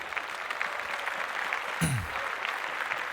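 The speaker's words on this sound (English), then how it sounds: "Claps." Moderate applause from a small group, continuous clapping at even strength for about three seconds, with a brief thud partway through.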